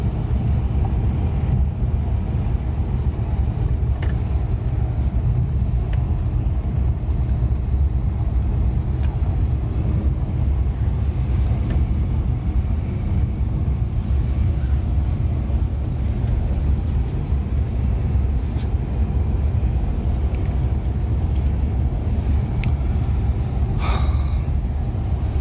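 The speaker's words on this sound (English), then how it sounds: "It's a state-of-the-art bus, by the way." A state-of-the-art Citylink bus drives steadily, its low engine and road rumble constant throughout with a faint wind-like hiss and no talk.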